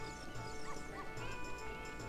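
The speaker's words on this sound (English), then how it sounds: "Doggy!" A dog in Zelda: Ocarina of Time gives a few short game-style barks and yips over a busy musical background, close and fairly quiet.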